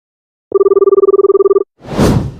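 A phone ringing back on an outgoing call: a steady two-tone ring pulses rapidly for about a second, then cuts off, followed by a short breathy rustle.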